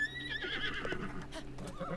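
A horse from Zelda: Breath of the Wild neighs with a sustained whinny, loud and close, over a steady low in-game hum; light hoof clops and rustling sounds follow.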